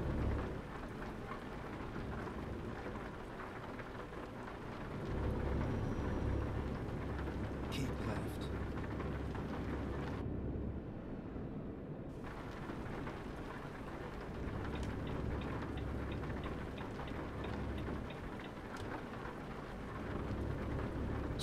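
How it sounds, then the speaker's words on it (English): Steady rain pours down in Euro Truck Simulator 2 with occasional rumbles of thunder, broken by a brief quiet gap, while a voice speaks intermittently over it. "Still raining, which is a little bit frustrating."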